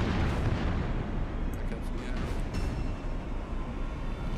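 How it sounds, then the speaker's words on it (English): Torpedoes fired from a warship in World of Warships, heard as a dense, continuous low rumble of booming fire and blasts that holds loud for the whole stretch, with faint voices under it. "Fire off a round of torpedoes."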